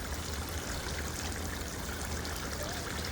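Water spraying from a children's splash pad outdoors, a steady close hiss and patter of falling streams that runs evenly without a break.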